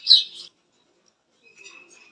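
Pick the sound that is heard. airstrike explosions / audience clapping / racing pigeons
racing pigeons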